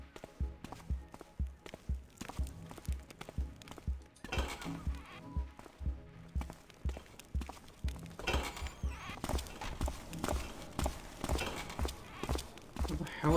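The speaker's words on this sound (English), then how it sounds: "What the hell is that footsteps I'm hearing?" Steady, evenly paced footsteps thud and clink in a Thief fan mission game, continuous throughout under a faint murmur of background sound, growing slightly busier toward the end.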